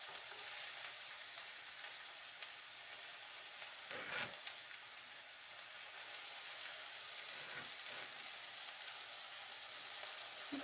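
Onions sautéing in a pan give a soft, even hiss of frying with a couple of faint stirring knocks, quiet and steady with no speech.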